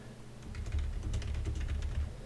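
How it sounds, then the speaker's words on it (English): Soft typing on a computer keyboard, a quick, fairly steady patter of light key clicks close by, faint and alone with no talk. "So we'll type in the message"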